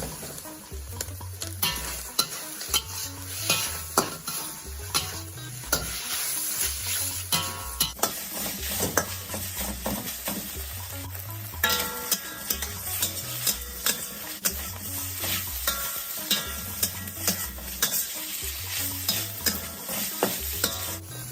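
Beef pieces frying in a pan for a beef sauce, a continuous loud sizzle broken by repeated rhythmic stirring scrapes and clinks of a utensil against the pan, with no talking.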